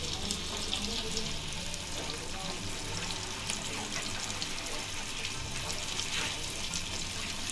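A steady, continuous sizzle of four pieces of halwa fish frying on a hot griddle, crackling evenly without pause.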